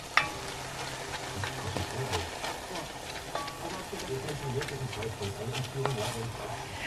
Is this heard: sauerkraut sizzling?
yes